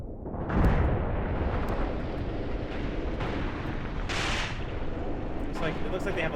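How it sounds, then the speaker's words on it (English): Artillery fires continuously in the Graviteam Tactics war game, producing a dense rumbling wash of booms and distant blasts, with a few sharper reports standing out from the steady roar. "Are these artillery guys firing finally?"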